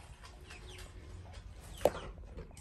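Chickens kept indoors in a garage on a small home farm give quiet, scattered clucks and murmurs at a distance, with one sharper, louder squawk near the end over a low background hum.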